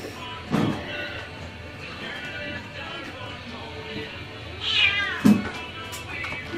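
Three older kittens acting restless in a small cage meow repeatedly, a few louder cries standing out over continuous scrabbling and background noise nearby.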